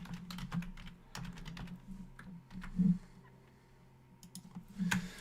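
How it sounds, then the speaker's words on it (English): Typing on a computer keyboard, with quick irregular bursts of clicks and a few louder key strikes, close up and alone with no talk. "what I'm doing is I'm just typing"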